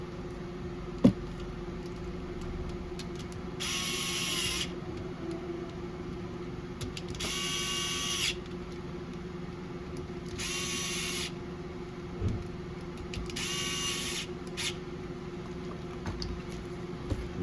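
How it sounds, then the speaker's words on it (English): A power tool whirs in four short, separate bursts, each lasting about a second, while tightening the screws on a car's camber adjustment. Each burst stands out clearly over a quiet background hum with brief pauses between them. "And tighten these 4 screws back down."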